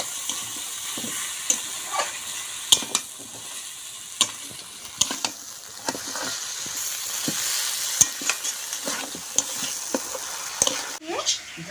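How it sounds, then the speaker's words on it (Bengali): Mutton trotters sautéing in spicy masala for nihari, a steady sizzle punctuated by repeated sharp knocks and scrapes of a spoon against the pot, with occasional talk in the background. "ঝাল মশলা দিয়ে কষানো হয়ে গেছে,"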